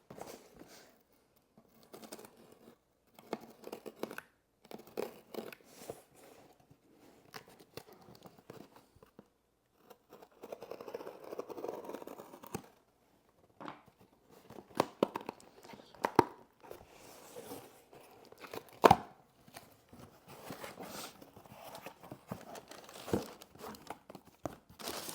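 An Amazon parcel being opened up close, with scattered bursts of crinkling plastic and paper, tearing and soft handling knocks separated by quiet gaps, while a voice talks faintly at times.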